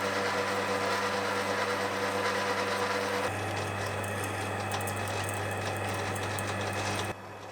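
A lathe drills out the inside of a small metal part for a hydraulic gear pump, giving a steady mechanical whirring drone with a shift in tone partway through, running continuously and close up with no talk.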